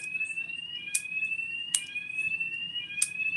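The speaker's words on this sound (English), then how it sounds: "It's a fire alarm, but I decided to carry on." A shrill fire alarm drones steadily, punctuated by three sharp bright chirps at roughly regular intervals, with no voices.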